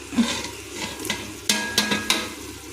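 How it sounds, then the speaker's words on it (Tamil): Tomatoes sautéing with masala in a pan for mushroom biryani, a soft sizzle broken by several sharp scraping stirs of a spoon against the pan. "நல்லா வதக்கி விட்டு காட்டுறேன்."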